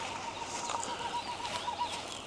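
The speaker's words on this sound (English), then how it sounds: "There's all kinds of fun bird noises out here." Birds call along a hillside trail near St. Anthony, Newfoundland, a repeated steady series of thin, evenly spaced notes carrying from a distance over outdoor ambience.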